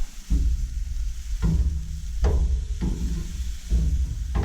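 Boneless beef ribs sear on a grill in a steady low sizzle, broken by several soft thuds and scrapes as the pieces are shifted around, with no talking.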